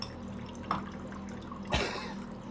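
Water drains from the fuel bowl of an Ariens 8526 snowblower that won't start, trickling and dripping quietly close by, with two brief louder splashes partway through over a faint steady hum.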